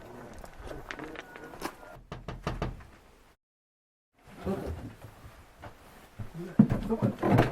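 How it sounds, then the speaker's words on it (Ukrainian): Knocking on a house window in a village yard, a quick burst of sharp raps near the start, then a silent gap followed by shuffling, rustling and muffled voices. "Немає нікого, значить ми підійдемо в вікно і зараз ми постукаємо"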